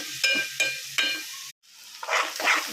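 Onions and green chillies frying in oil already used for frying fish, with several sharp sizzling bursts and stirring scrapes, a brief gap, then a louder sustained sizzle close up.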